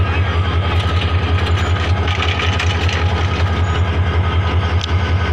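An intercity train rumbles past loudly and steadily near a road traffic signal, a continuous heavy mechanical roar with rattling wheels close by.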